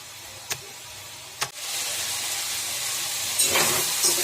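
Kolmi greens stir-fried dry in a kadai give off a steady soft hiss and steam sizzle, with a couple of brief stirring clacks near the start and a slightly louder crackle toward the end.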